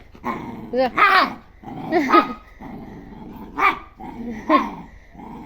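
A dog barks and growls in several short, loud bursts spaced across the moment, close by, with people talking around it.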